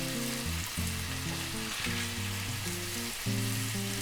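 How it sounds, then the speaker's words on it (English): Guinea hen meat sizzles steadily as it goes into a hot peanut and kale sauce, a continuous loud frying crackle with the low rumble of stirring, and no voices. "I'm going to take out the meat and put it into the sauce"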